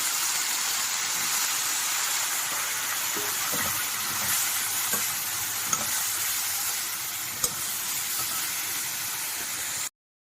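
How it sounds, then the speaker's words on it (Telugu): Mushrooms fry in two spoons of oil in a kadai, a loud steady sizzle and hiss running without a break, with a few faint stirring scrapes along the way before it cuts off abruptly. "ఈ మష్రూమ్ కూడా వేయించేసుకుందాం కొంచెం మొత్తం అట్లా మష్రూమ్ వేయించాలి"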